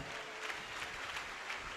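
A church congregation claps along during a sermon, producing a faint, steady patter of applause from a distance that continues without pause.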